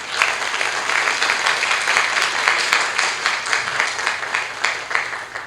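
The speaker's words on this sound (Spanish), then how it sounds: "Unas fuertes palmas, por favor." Loud, sustained applause from the audience at a criminal procedure law seminar during a certificate presentation, many hands clapping densely and evenly throughout.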